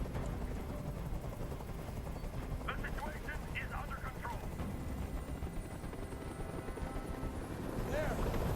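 A helicopter in the video game Detroit: Become Human beats and whirs steadily at a distance, its rotor noise running under game sounds, with brief clattering bursts midway and a rise near the end.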